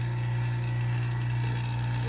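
A vacuum pump runs steadily while pulling a vacuum on a furnace, giving a loud, constant low hum with a faint mechanical ticking texture and no break in the sound.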